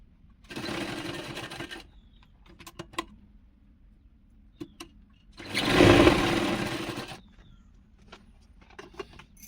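A sewing machine stitches blouse fabric in two short runs, the second longer and louder, with quiet pauses and small handling clicks and taps between them.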